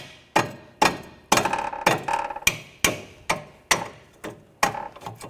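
A hammer tapping out a front lower ball joint on a 2013-2019 Ford Escape, about ten sharp metallic strikes at a steady rhythm, close and loud, each ringing briefly before the next.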